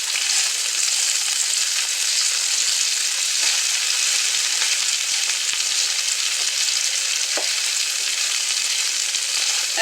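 Potatoes fry in a salted pan with a loud, steady, dense sizzle and crackle that runs unbroken throughout, with no voices.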